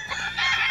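A rooster crows at a gamefowl farm, a short loud nearby call with a harsh, raspy rising tone.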